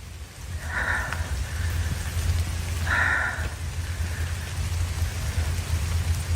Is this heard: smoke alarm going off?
no